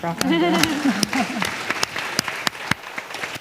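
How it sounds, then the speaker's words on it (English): An audience at a startup event breaks into clapping, a short burst of applause that starts under a speaking voice and thins to a few scattered, distinct claps before fading. "I want to just give her a clap."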